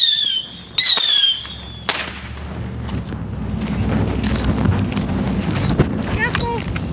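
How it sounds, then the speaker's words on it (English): Bottle rockets screech off in rising whistles, followed by sharp crackling pops and a dense fizzing rumble of fireworks, loud and close with voices reacting in the background. "That are some bottle rockets."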